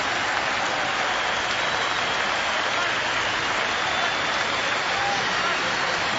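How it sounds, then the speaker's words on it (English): A Test cricket crowd at Cape Town in 1997 applauds in a dense, sustained wash of clapping from a large stadium audience, with a commentator's voice faintly over it. "Generous round of applause for the Indian captain."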